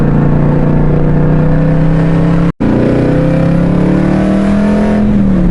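A Cadillac CT5-V Blackwing with a manual gearbox drones loud and close under throttle, its engine note climbing steadily, then cutting out for a split-second gear change before building again as it accelerates.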